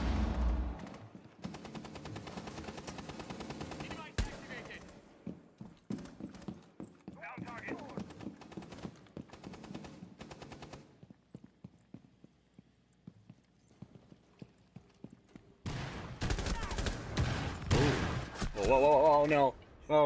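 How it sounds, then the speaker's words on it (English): Bursts of gunfire from Rainbow Six Siege gameplay, with sharp sporadic shots early on and a loud, dense volley near the end, mixed under frequent voice chat and game announcer speech. "Oh, cover fire. Cover fire, thank you."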